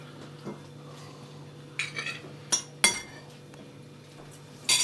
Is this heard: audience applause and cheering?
no